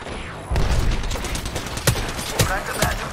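Gunfire in the battle royale shooter Apex Legends, with loud rapid bursts and sharp individual cracks over a busy, dense combat background for the whole short stretch.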